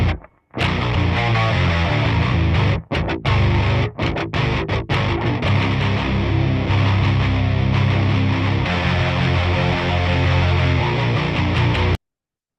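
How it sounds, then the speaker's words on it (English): Distorted progressive metal riff played on bass and electric guitar, from a metal arrangement of Lili Boulanger's Psaume CXXIX; a dense, loud, continuous wall of heavy tone with a few abrupt stop-start breaks early on, then a sustained run before cutting off. "So here is just the riff by itself, bass and guitar."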